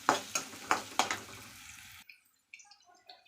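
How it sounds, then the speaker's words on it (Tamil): Chopped banana stem being stirred in a hot pan for thuvaiyal, with a run of sharp, regular scraping and clattering strokes followed by quieter, scattered sizzles and clinks. "இதிலே சேர்த்துட்டு நல்லா வணக்கிக்கலாம்."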